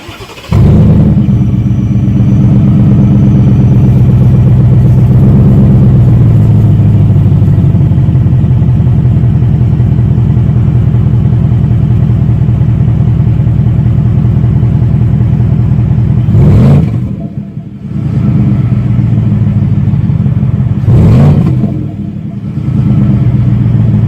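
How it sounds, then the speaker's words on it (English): A deep, rumbling Ford F-150 pickup with a cat-back exhaust idles loudly, then gets blipped twice in sharp revs that flare up and fall back, close and alone. "It's actually a cat back system, so it's not a full exhaust system."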